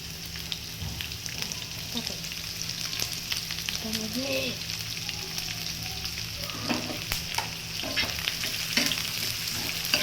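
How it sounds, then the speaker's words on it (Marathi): Chopped onion frying with garlic in a hot pan makes a continuous close sizzle, broken by occasional scraping and stirring clicks. No voice is heard. "आता कांदा भाजून आहे मी कांदा टाकलाय"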